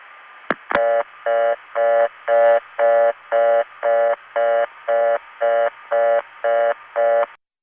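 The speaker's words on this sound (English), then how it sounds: "you could tell that it was going to go to some sort of intercept by the noises we heard right before the ring started" On a 1970s long-distance telephone line, a twin click leads into a steady series of about twelve evenly spaced tone bursts, the pulsing and ringing that come before an intercept recording. The sound is loud and clear with no voices.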